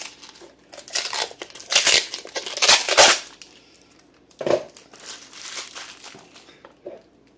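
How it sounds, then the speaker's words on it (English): Crinkling and crackling of plastic wrap being pulled off a boxed Inateck charger, in several loud close bursts with short pauses between, ending in a few softer rustles. "let's get this plastic off of it"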